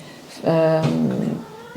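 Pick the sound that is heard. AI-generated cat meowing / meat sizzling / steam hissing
AI-generated cat meowing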